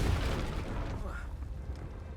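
An explosive blasting spell in the wizarding game Hogwarts Legacy, a muffled booming burst at the start that rolls off into a rumbling, crackling decay against steady game ambience.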